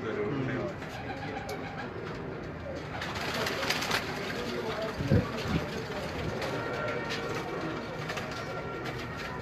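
Large male pigeons coo softly amid steady outdoor noise, with people talking nearby and a flutter or rustle partway through.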